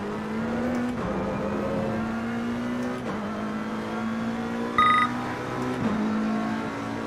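A McLaren 720 races around Spa in a video game, its engine holding a steady droning tone that rises and falls with gear changes, with a brief electronic beep partway through.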